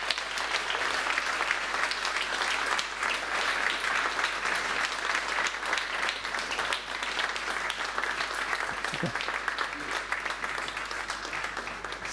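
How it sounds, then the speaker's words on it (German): Sustained audience applause at a children's workshop event, a dense, even wash of many hands clapping continuously for over ten seconds at moderate volume with no talk over it. "vielleicht können wir zwischendurch noch einen kurzen Applaus geben"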